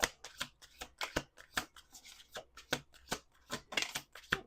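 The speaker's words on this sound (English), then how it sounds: "2 more shuffles." Tarot cards are shuffled in a quick series of crisp riffling snaps, close and fairly quiet, each burst fluttering briefly before the next.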